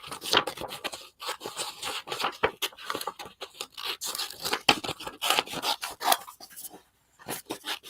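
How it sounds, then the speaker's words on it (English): Small scissors snip through paper while trimming a collage poster, making a run of short, crisp cuts and rustles in irregular bursts with brief pauses, close and fairly quiet. "Let me get my small scissors to get around in here."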